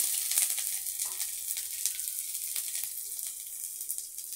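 Ginger tipped into hot oil with cumin in a pan, giving a steady crackling sizzle with sharp pops scattered throughout, fairly close and with no voices over it.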